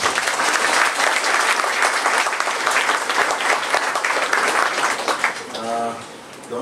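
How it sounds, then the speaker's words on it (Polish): Warm audience applause at a cornerstone-laying ceremony for the Olivia Star building, steady dense clapping that fades out near the end as an announcer's voice begins. "Gorące brawa."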